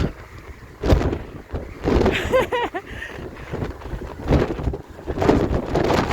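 Wind gusts in Ireland buffet the microphone in rough, uneven bursts, with a voice briefly audible beneath the roar.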